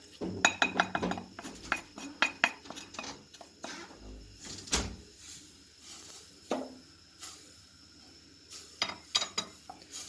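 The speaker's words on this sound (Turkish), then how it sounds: "Kaynayıncaya kadar karıştıracağım." A spoon stirs a margarine, starch and flour mixture with milk in a pot, giving irregular clinks and scrapes against the metal with quieter gaps between, close and moderately soft.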